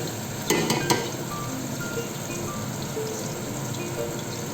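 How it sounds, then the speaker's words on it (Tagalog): Onions frying in a pan for an Arabic fish majboss give a steady sizzle, with a few sharp clatters of stirring near the start and faint scraping later, and no voices. "So guys, lagay na po natin yung onions."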